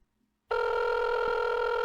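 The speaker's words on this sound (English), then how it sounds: "Oh, phone." A telephone rings loudly and steadily in a K-pop music video, starting abruptly after a short silence and sustaining a bright, continuous electronic ring.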